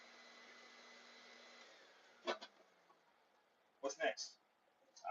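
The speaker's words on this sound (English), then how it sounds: "let me vacuum this thing." A household vacuum cleaner hums faintly and steadily, then cuts off. A few short bursts of a person talking follow in a quiet room.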